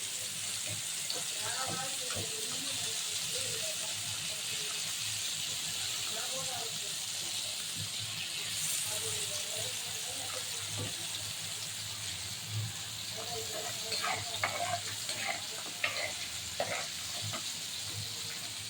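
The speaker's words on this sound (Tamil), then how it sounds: "மீன் வறுவலுக்கு போட்டாச்சு." Kodua fish, also called barramundi, fries in oil in a pan, a steady loud sizzling hiss throughout with occasional crackles and spatters; a person talks faintly over it at times.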